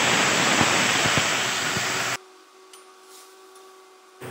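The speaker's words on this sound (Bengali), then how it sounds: "জলটা এবার দিয়ে দেব।" Hot water poured into a pot of vegetable curry with drumstick, potato and eggplant, a loud steady rushing splash that stops abruptly halfway, leaving a low hum and faint clinks.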